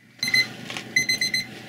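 An alarm clock style timer beeps in bright, repeated pulses: a first burst, a short pause, then four quick evenly spaced beeps, loud and close with no talk.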